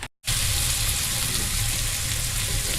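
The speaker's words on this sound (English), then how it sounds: "the bacon's starting to fry up a little bit" Bacon frying in a pan for potato chowder gives a loud, steady hiss and crackle that begins abruptly after a brief silence and runs on evenly.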